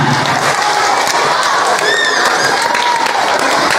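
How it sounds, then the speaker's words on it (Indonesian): A large crowd at a religious lecture clapping loudly and continuously, dense and close, with cheering and some children's shouts mixed into the steady roar. "Boleh tepuk tangan."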